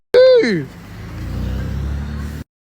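A car drives past close by on a Paris street, a loud rumbling engine swelling and holding steady for about two seconds before cutting off, with a brief voice exclaiming at the start.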